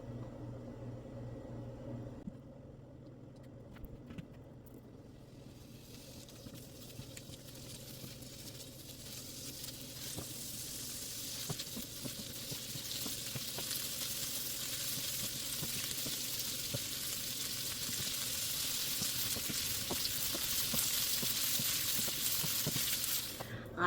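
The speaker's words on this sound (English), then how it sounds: "And while we wait, we are going to fry up our little bits here." Leftover fat trimmings fry in a pan while making homemade tallow. A soft, hissing sizzle with faint crackles slowly grows louder over the whole stretch, quiet and close, with no talking.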